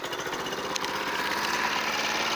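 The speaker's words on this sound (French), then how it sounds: "Premier coup de corde, au ralenti elle démarre." A lawn mower engine, warm and started with one pull of the cord, idling with a steady low rumble throughout, close and fairly loud with no voices.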